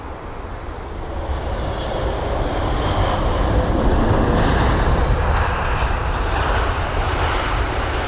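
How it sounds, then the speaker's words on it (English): Boeing 777-200ER taxiing toward runway 27 left at London Heathrow, a loud continuous jet engine roar that swells slightly and holds steady, close by. "Have the 777-200ER heading on over to runway 27 left"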